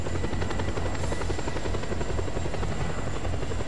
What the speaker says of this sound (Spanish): Veo un helicóptero.